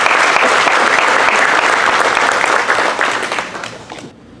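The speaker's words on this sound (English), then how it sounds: "give Jay a big round of applause for that" A large banquet audience at a New Orleans sports awards event applauds an honoree headed for the Louisiana Sports Hall of Fame; dense, loud sustained clapping that fades out over the last second.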